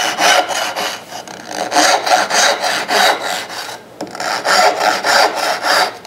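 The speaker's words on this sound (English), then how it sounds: "what we're doing here is we're creating stop cuts" A handsaw cuts a row of stop cuts into a wooden board, its rasping strokes steady and rhythmic, sounding close, loud and alone, with a brief pause between groups of cuts.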